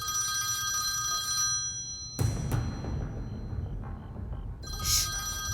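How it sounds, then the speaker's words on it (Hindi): A telephone rings with a steady electronic bell tone, interrupted by a thud and rustling, then the ringing starts again faintly. "जब फोन बजता है तो उठाया जाता है"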